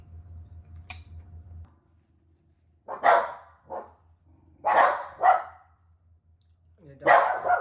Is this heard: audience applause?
no